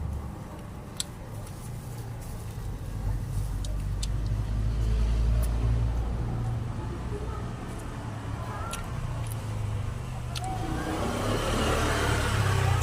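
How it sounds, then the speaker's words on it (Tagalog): Steady roadside traffic rumbles throughout in the Philippines, with engines passing by at a moderate distance and a constant low drone of vehicles. "maingay dito. Nasa tabing kalsada tayo. Maraming dumadaan."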